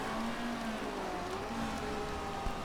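Steady rain hiss from the Motorsport Manager racing game during a wet 2019 Munich race, a continuous close wash of drops with faint tonal engine whines gliding underneath, no voices.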